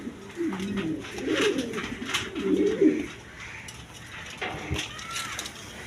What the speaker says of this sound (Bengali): এক পেয়ার চন্দন কবুতর একদম ফেরেস কোয়ালিটি নিউ অ্যাডাল পেয়ার